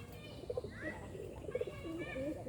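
A domestic pigeon coos softly twice, a pair of low throaty calls about a second apart, over steady background noise with a voice nearby.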